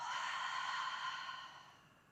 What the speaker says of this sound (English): And then exhale through the mouth